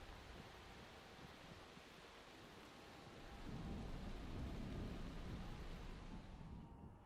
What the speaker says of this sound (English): I thought it was rain for a second there. It was.